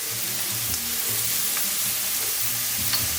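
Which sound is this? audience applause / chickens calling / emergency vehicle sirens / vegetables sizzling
vegetables sizzling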